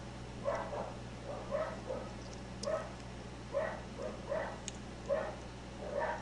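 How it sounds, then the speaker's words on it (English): A Cocker Spaniel barks in the background of a room, about eight short yips and barks at loose, fairly regular intervals, faint and distant over a steady low hum. "that barking you hear in the background is my overactive Cocker Spaniel."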